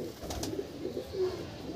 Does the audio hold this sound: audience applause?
no